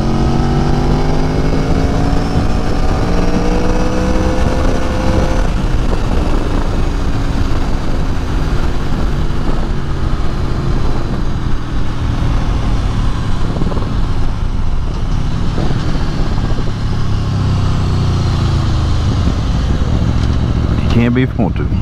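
A 2018 Aprilia Tuono motorcycle engine revs and pulls hard on a test ride, its rising and falling tones steady and loud beneath continuous wind rush, with a voice talking over much of it.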